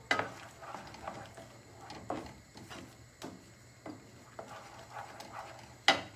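Vegetables roast in a pan, a faint sizzle under repeated scrapes and clatters of a utensil stirring against the cookware, irregular taps with one sharp knock near the end, no talk.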